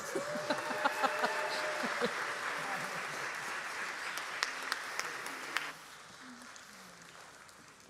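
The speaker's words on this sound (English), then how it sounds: "You can applaud." A congregation applauds after flowers are presented at a baby blessing during a church service, the clapping moderately loud and scattered with a few sharper claps, then stopping abruptly near the end as the room goes quiet.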